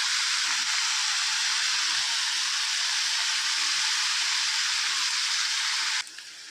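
Tomatoes sauté with salt in a pan for chutney, a loud, steady, close sizzle that holds evenly and then drops sharply quieter near the end, with no voices.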